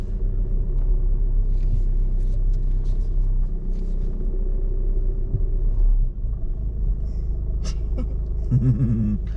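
Close, steady low rumble of a car engine idling and creeping through a reverse bay parking manoeuvre, with the clutch slowly raised and lowered; the engine note stays constant, with a brief dip and faint higher sounds near the end.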